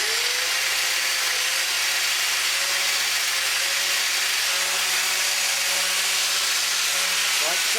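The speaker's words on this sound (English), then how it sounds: "using an angle grinder with a grinding wheel, just run across the surface of the wheel" An angle grinder fitted with a grinding wheel is run across the face of a spinning wire wheel to dress it, giving a steady, close hiss with a faint whine throughout.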